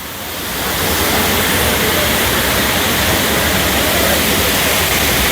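Waterfall at Kolukkumalai in Munnar, a steady, loud, broadband rush of falling water that holds constant after a brief swell at the start.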